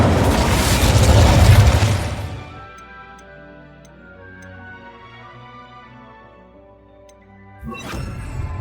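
An Incendio fire spell cast in Hogwarts Legacy: a loud, dense whoosh-and-burst of flame for about two seconds, dying into a low tonal ringing, then a second fiery burst starting near the end.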